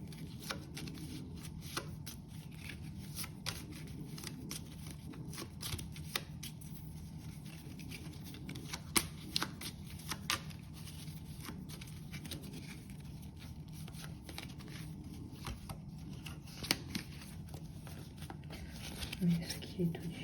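Soft, close riffling and shuffling of a deck of playing cards with scattered crisp flicks and taps, under quiet whispered French talk.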